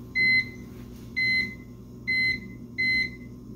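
Beeper of a TI CC40 computer giving four short, identical electronic tones evenly spaced, clear and close over a quiet background.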